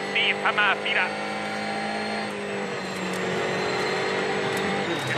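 Onboard a driver's Ford rally car at speed on a French rally stage: a steady, high engine drone that holds and climbs slightly, loud and close, with a brief voice near the start.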